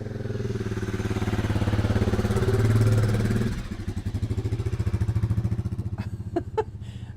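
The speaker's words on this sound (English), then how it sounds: "There goes my motorcycle." A motorcycle engine rumbles loudly nearby, swelling as it passes and then fading into a lower chugging drone, with a couple of sharp clicks at the end.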